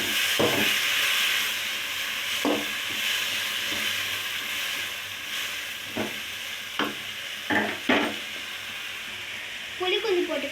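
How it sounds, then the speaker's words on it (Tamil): Tomato chutney stirred in a hot pan with a steady sizzling hiss throughout, broken by several sharp scraping strokes and a quick burst of clatter near the end, no talking. "கிண்டி விட்டுக்கலாம்."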